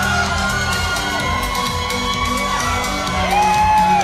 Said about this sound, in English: LJ Cleary did not like that response from the crowd, so he wants another one.